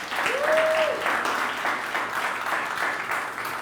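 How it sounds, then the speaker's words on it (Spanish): Members of a church congregation clap together during a sermon, producing a sustained wash of applause with a brief voice-like tone cutting through near the start before the clapping carries on steadily. "Dárseles aplauso."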